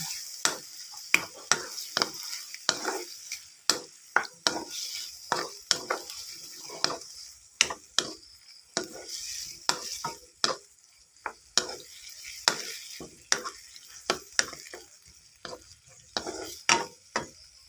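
Pork stir-fried in a pan with a splash of water for a red curry paste string bean dish, a low sizzle punctuated by steady, regular spatula scrapes and clacks against the pan.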